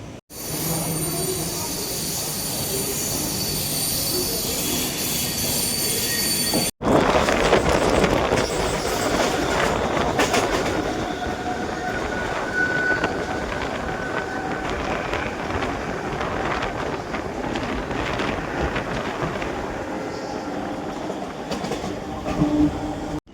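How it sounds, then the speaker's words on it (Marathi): A train pulling into a railway station in Nashik, a heavy continuous rumble of wagons with clattering wheels and occasional squeals, loud and close for over twenty seconds with faint voices in the background. "बघू येईल आता ट्रेन"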